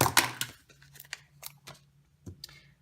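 Scissors snipping through cardstock for a Halloween card, several crisp close cuts with pauses between them in a quiet room.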